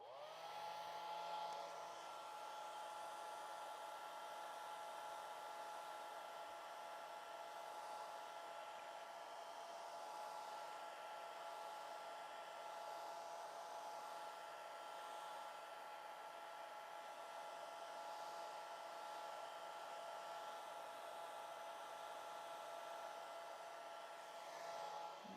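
A hair dryer blows steadily and close by to dry fresh watercolor paint on a wood duck painting, a continuous whirring hum holding at an even level with no speech.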